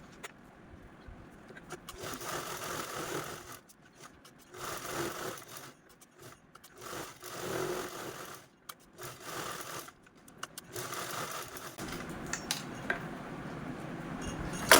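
Sewing machine stitching folded blouse fabric, bursts of fast mechanical whirring that start and stop with short pauses between, moderately loud and close.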